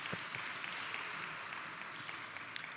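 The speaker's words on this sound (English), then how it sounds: "Let's give you a round of applause once again." Quiet, distant applause from attendees at an aviation gender-equality closing session, a soft continuous patter of many hands lasting under three seconds with one sharper clap near the end.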